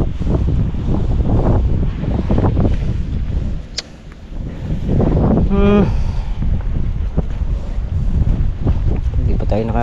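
Wind gusting outdoors on a farm as light rain begins, a steady rushing roar across the whole stretch with people talking over it.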